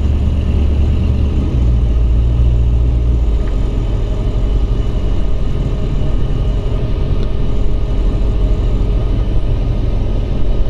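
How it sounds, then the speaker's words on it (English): A 1956 Cadillac Sedan DeVille with a Powerglide automatic, driving along with a steady, loud, close low engine rumble and no voices. "We're going to take it for a little drive right here."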